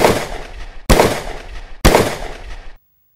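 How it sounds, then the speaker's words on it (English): Three sharp gunshots at roughly one-second intervals, each loud and followed by a short rumbling echo, then silence. "Not far distant, the Two-Gun Kid hears the sound of gunfire."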